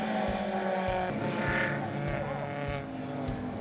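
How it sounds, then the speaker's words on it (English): Mazda MX-5 race cars running on track at Thunderhill during a 25-hour endurance race, engines droning steadily with shifting pitch as cars pass, a continuous loud mechanical roar. "With just a few hours left in the race, 3 of the 4 Mazda MX-5 cars are still on the track at this point"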